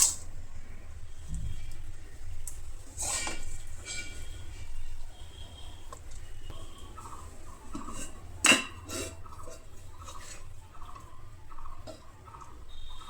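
Plates and steel cutlery clink and scrape as rice is served at home alongside a tangra fish curry, with scattered sharp taps and a louder clatter midway over a low hum, no talking.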